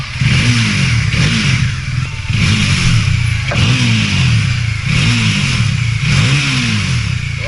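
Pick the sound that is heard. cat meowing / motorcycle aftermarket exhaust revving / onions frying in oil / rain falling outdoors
motorcycle aftermarket exhaust revving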